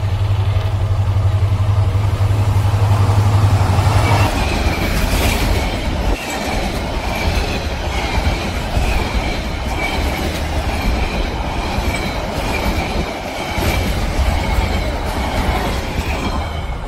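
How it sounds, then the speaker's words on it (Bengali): A train rolls past on railway tracks in Bangladesh, loud and close, with a steady heavy rumble, rhythmic clickety-clack of wheels and faint wheel squeal across the whole stretch. "যাওয়ার সময় একটি ট্রেনের সাথে দেখা হয়ে গেল আমাদের।"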